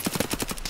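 A rapid burst of gunfire in the video game Escape from Tarkov, about eight quick evenly spaced shots crackling in succession.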